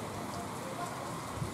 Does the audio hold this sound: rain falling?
yes